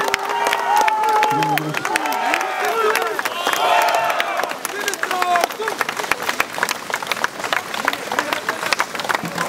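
A large outdoor crowd applauds a Roman-versus-Huns historical reenactment group, with steady clapping and scattered cheers throughout while an announcer talks over it.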